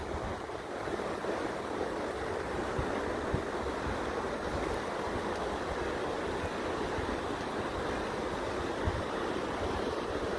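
Whitewater rushes through a man-made training wave at a whitewater center, a continuous broadband roar and wash of churning water, steady and fairly loud, with some wind noise on the microphone and no speech.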